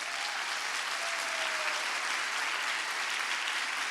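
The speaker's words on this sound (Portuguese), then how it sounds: "Aplaude bem forte." A church congregation applauds strongly, with dense, even clapping across a large room that stays steady throughout at a moderate distance.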